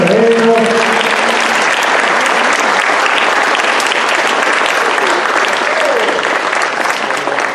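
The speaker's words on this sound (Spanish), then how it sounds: "Aplauso para ellos." Loud, dense applause from an audience at a rural school program ceremony, sustained for the whole stretch, with a brief voice audible at the very start.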